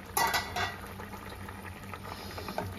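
A covered pot of fish roe and hog plum curry bubbles steadily at a low, even level, with a few brief clinks near the start and toward the end.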